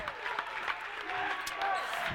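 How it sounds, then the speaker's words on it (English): A high school boys basketball crowd cheers and claps in shaking bleachers, a fairly faint, busy wash of voices and hand claps mixed with brief sharp knocks from the gym. "And the crowd really getting into it now."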